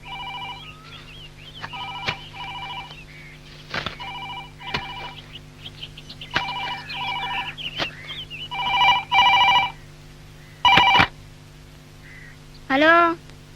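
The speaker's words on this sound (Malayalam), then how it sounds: "ഫോൺ." A telephone rings in a home scene from a classic Malayalam film, a repeating electronic ring in short regular bursts with pauses, loud and close, with brief voices and other household sounds between rings.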